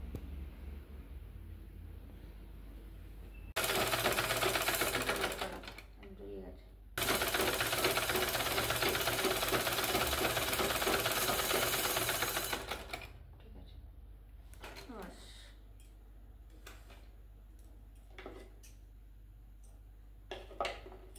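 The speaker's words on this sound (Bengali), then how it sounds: "তা এগুলো আমি পরপর এবার সেলাই করে নিই বন্ধুরা।" A sewing machine stitches a table cloth in two loud, steady bursts of rapid mechanical clatter, each several seconds long, separated by quieter pauses with light handling noises.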